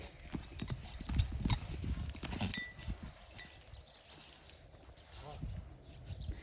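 Horse hooves clip-clop in an irregular rhythm on the ground at a Brazilian cowboy gathering, close by, while people talk over them.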